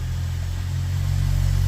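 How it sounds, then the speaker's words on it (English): A 2015 VW Golf engine, just repaired after a sensor reference voltage fault, runs at a steady low idle with a firm, even hum that swells slightly louder toward the end, close by with no talking. "The car's just gonna fire right up like a charm."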